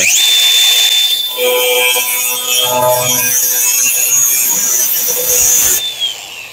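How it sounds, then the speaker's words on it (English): A cutoff wheel grinds through a rusted car quarter panel with a loud, steady high-pitched whine and harsh scraping, then spins down at the end. "I like to start the cutoff wheel right in the center"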